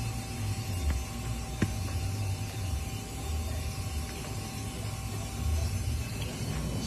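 A vertical foam-cutting saw with a double blade runs steadily while slicing sponge blocks, giving off a continuous mechanical whir with faint ratcheting clicks and a hum close by.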